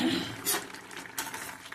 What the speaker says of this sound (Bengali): দেখি লিডটা উঠিয়ে সিদ্ধ হলো কিনা